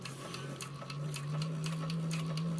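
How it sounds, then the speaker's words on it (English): A sewing machine runs steadily while top stitching a seam roughly 1/8 to 1/4 inch from the edge, a close, even motor whir with rapid rhythmic needle clicks throughout. "We're going to top stitch this at about 1/8 of an inch, probably 1/4."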